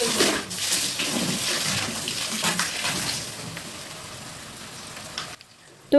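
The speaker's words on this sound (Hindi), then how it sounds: "पहले इसको भरेंगे, टंकी भर दीजिए।" Water pours steadily into a household tank during cleaning chores, a continuous rushing, splashing flow close by that cuts off abruptly near the end, with no talking.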